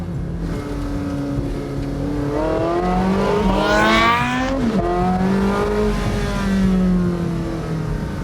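A Porsche 918 Spyder engine, roof down, revs hard and close, its pitch sweeping up through quick gear changes with a sharp rise near the middle before settling.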